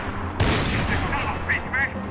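A loud gunshot blast opens the moment in the video game Max Payne 3, followed by a few fainter follow-up shots and battle noise, with someone shouting over the action.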